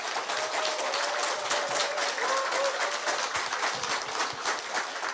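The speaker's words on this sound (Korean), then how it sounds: "큰 박수 부탁드리겠습니다" Applause from a forum audience after a lecture and Q&A, a sustained, thick rush of many hands clapping at steady volume for about five seconds, with faint murmuring voices mixed in.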